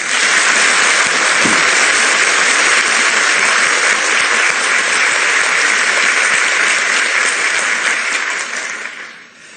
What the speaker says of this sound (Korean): 격려의 박수 좀 하세요